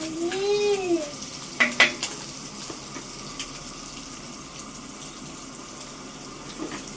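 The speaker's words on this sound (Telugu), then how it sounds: "ఈ పచ్చిమిర్చి ఆనియన్ అనేవి బాగా వేగిపోవాలి." Green chilies and onion with turmeric frying in a clay pot, a soft low sizzle broken by a few sharp utensil clinks near the start, with no voices.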